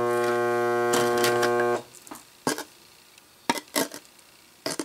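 A growler demagnetizer used on tools gives a loud steady electrical hum for almost two seconds, then cuts off, followed by several sharp metallic clinks and taps of tools being handled.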